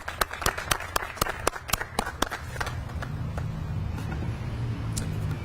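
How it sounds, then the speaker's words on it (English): A small crowd at an outdoor Pearl Harbor remembrance ceremony gives a round of applause, starting as sparse, distinct sharp claps that blend into softer scattered clapping over a low rumble. "would you please join me in a round of applause for those gentlemen and ladies?"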